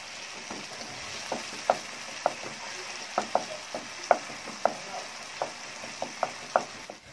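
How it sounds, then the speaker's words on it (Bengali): Chopped tomatoes frying in a pan over medium heat for a beef curry, giving a low continuous sizzle broken by small crisp pops and occasional utensil taps, close and moderate in level. "এখন টমেটোগুলোকে গলে যাওয়া পর্যন্ত চুলার আঁচ মিডিয়ামে রেখে ভেজে নিতেই হবে"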